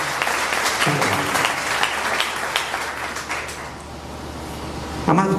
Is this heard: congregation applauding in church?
yes